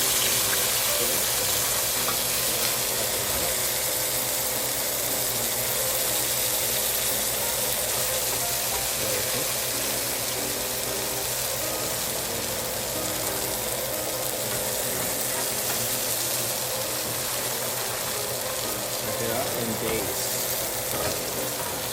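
Steak sizzles and spits steadily in a hot pan while being basted, a dense, even frying hiss that stays constant and fairly loud throughout with no talking over it.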